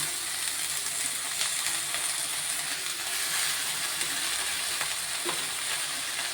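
Spinach from a terrace garden sautés in a pan with a steady, dense sizzle and soft frying hiss that holds evenly throughout, close and moderately loud, with no voices.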